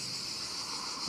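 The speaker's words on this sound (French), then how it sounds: "Écoutez les cigales." Cicadas sing in pine trees in the Var, southern France: a dense, steady high-pitched buzzing drone that fills the air continuously without breaks.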